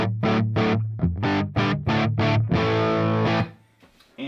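Distorted Les Paul electric guitar through a Plexi Normal amp simulation with a crunchy tone, a series of short chugging chords followed by one longer sustained chord that cuts off.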